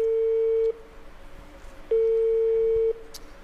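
A telephone busy signal sounds in steady pulses after a call is dialed, a long beep, a pause, then another long beep, loud and clear with faint background noise.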